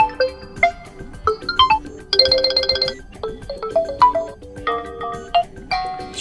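A standard ringtone melody plays on a Realme C25s phone: bright chiming synth notes stepping up and down in quick patterns, with a brief sustained chord burst midway, loud and clear with no talk.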